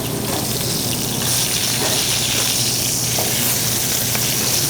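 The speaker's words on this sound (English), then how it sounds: "I want to give it a nice caramelization, a nice brown sear on one side of the steak" A New York steak sears in a hot pan, giving a steady, close, loud sizzle with dense crackling hiss that holds evenly throughout, no talking.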